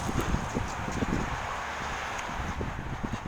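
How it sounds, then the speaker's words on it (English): Gusty wind buffets outdoors in a continuous rushing roar, with intermittent low thumps and rustling throughout. "It is a nice windy day today."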